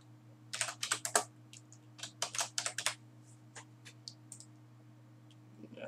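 Fingers type text on a computer keyboard while working in a video editor, with quick bursts of close, crisp key clicks split by short pauses over a faint steady hum.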